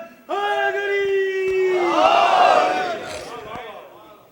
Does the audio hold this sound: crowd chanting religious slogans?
yes